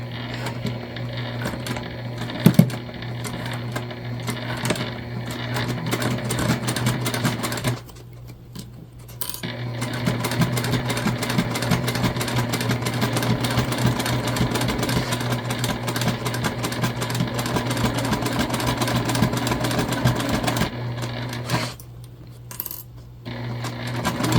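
A home sewing machine stitches a seam on fabric for a bag, its motor running in a fast, steady whir for long stretches with two brief pauses and a sharp click near the start.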